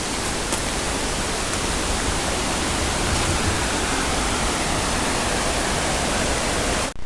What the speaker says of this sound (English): The next stop are the Triple Falls.